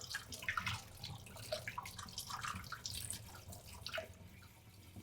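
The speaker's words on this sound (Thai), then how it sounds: "แล้วก็เอาใส่ถ้วย ล้างผัก" Tap water runs steadily into a sink while vegetables such as spring onions and cucumber are rinsed before cooking, a continuous splashing flow with small irregular clatters and drips throughout.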